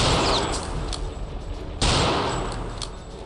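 Gunfire in Return to Castle Wolfenstein at a railway station level: a sustained loud burst of firing with a sharp new shot near the middle, dense and continuous throughout.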